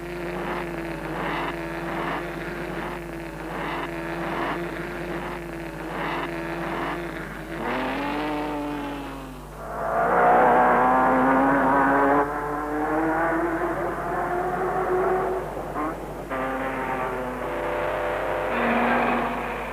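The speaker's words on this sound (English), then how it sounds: "The 2 auto unions are the last to leave in this handicap event." Two 1930s Auto Union racing cars set off last in a 200-mile handicap race, their engines droning and rising steadily, then surging into a louder, harsher roar partway through before settling into a sustained high whine.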